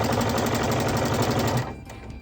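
A sewing machine stitches along the edge of a rag quilt, giving a loud, steady, rapid whirring hum that runs for about a second and a half before it stops and leaves a quieter background.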